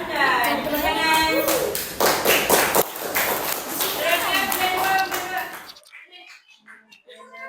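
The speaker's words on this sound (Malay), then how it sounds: "Tepuk tangan." A classroom of children claps in a dense, ragged burst while young voices chatter loudly over it, then the noise drops off into quieter talk.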